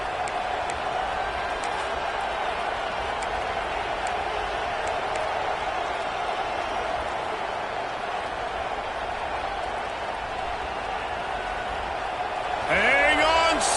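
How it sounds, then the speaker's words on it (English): Ohio State Buckeyes home stadium crowd roars on third down during a college football game against Penn State, a dense, steady wall of noise that holds throughout and swells slightly at the end. "The Buckeye crowd alive on third down."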